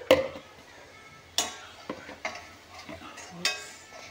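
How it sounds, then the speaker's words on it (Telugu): Spices and chicken masala being stirred in a pan during home cooking, with several distinct scraping clinks of a spoon against the pan and a faint sizzle underneath, close and alone. "మిక్స్ చేస్తుంది ఇప్పుడు మా మమ్మీ."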